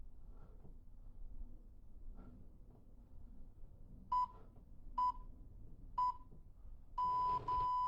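A workout interval timer during a kick-and-push exercise class beeps four short times at one-second intervals, then gives two longer tones, loud over a faint room background.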